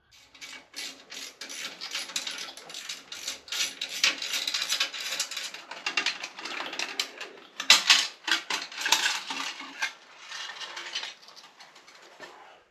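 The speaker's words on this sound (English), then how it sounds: "So we're going to take that heat shield off first." Hose clamps being loosened to remove the exhaust heat shield on a 2024 Harley-Davidson Fatboy 114, heard as close scraping, rasping and ratcheting metal clicks in uneven bursts, with a few sharper clanks, no talk.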